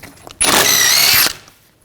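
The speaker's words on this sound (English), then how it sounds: "Using a 30mm socket, take the axle nut off" A power tool with a 30mm socket takes the axle nut off the rear CV axle of a 2014-2020 Nissan Rogue, giving one loud, steady whir about a second long with quiet shop noise before and after.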